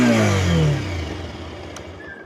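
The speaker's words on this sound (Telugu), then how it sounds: "ఇది బండి ఒక ఎగ్జాస్ట్ నోట్." 2026 Bajaj Pulsar 180 motorcycle exhaust note, a loud close rev whose pitch falls away as the engine settles back toward idle over about two seconds.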